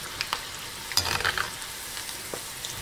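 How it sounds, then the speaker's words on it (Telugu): Bondas deep-frying in hot oil and being turned with a ladle, a soft close sizzle broken by a few scraping, clinking stirs, with no voices. "ఇలా తిప్పుకొని వేయించుకోండి. ఇప్పుడు మనకు బోండాలు వేగిపోయినాయి."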